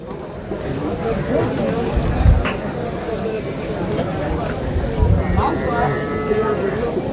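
Buffaloes moo in deep, drawn-out calls at a busy cattle market, with a couple of louder moos amid steady crowd chatter and people talking nearby.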